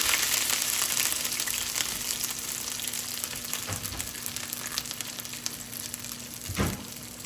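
Hot water cornbread made with egg yolk and butter fries in a skillet, a steady close crackling sizzle running throughout, with a brief scrape and thump near the end as a piece is flipped; no talking.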